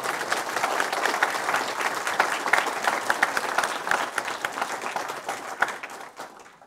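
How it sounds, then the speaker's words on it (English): Audience applause at the close of an April 2024 Duncan Lecture, steady dense clapping from a crowd filling the room for about six seconds before thinning out at the end. "let's give them a round of applause"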